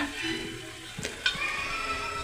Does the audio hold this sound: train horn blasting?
no